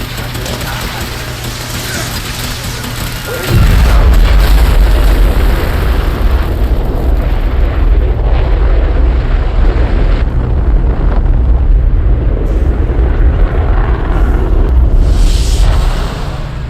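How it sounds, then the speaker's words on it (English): Rocket-style engine test firing in the video game Fallout 4: a loud, sustained roaring rumble kicks in abruptly after a quiet hum and holds steady for about thirteen seconds, with rough low-end power and hissing wash before easing slightly at the end. "Engine firing."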